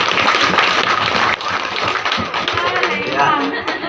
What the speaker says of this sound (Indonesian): tepuk tangan dulu dah